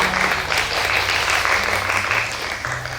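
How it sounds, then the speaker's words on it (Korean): Sustained, steady applause from an audience at a book concert, loud and continuous throughout, with a faint low hum of background music underneath. "큰 박수 부탁드립니다"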